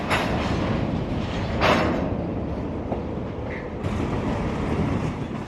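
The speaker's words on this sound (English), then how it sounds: "the grain train was shoving back into the spur, apparently to couple up empties" A grain train shoving back into a rail spur to couple up empty cars gives a steady, moderately loud rumble of rolling railcars with a few brief clanks and a faint squeal, and no voices.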